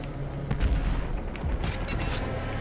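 A micro missile weapon fires in Doom Eternal, giving a quick volley of booming blasts and crackling impacts packed into about two seconds, loud and close with no voice over it.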